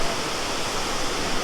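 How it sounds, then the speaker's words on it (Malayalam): Dudhsagar waterfall roaring as a steady, dense wash of falling water, even and unbroken throughout the short stretch with no voices. "അപ്പോൾ മച്ചാന്മാരെ നിങ്ങൾ വെള്ളച്ചാട്ടം കണ്ടില്ലേ?"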